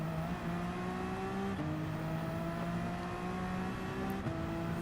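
Racing car engine in a video game, a steady droning whine that holds its pitch and then shifts down in short steps as the car sets up for a corner, continuous and prominent with no talking.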